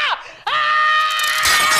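A woman lets out two loud, piercing screams up close, the first short and cut off, the second long and sustained with a rough, strained edge at the end.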